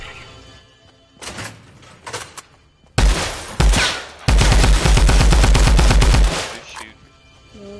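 Close, loud automatic gunfire in a video game: a few scattered shots, then heavy thumping bursts and a long rapid rattling volley before it fades.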